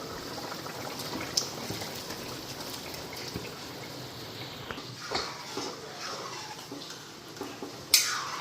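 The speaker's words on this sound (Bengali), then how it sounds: "সয়াবিনটা দিয়ে এখন আবার ভালো করে ফুটাই নিই" A pot of soybean curry bubbling and simmering on the stove, a soft steady boiling hiss with occasional pops and clinks nearby.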